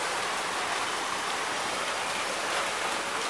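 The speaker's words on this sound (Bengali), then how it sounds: "সুন্দর বৃষ্টি হইলো" Steady rain falls on a June day, a dense and even hiss of drops hitting surfaces that continues without pause or change in loudness.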